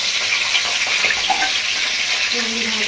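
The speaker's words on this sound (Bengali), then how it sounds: "এবার দিয়ে দেবো ভেজে রাখা মাটনটা" Previously fried mutton pieces tipped into hot oil with tempering spices in a pan for a rustic mutton curry, setting off a loud, continuous crackling sizzle up close, with a faint scrape of stirring underneath.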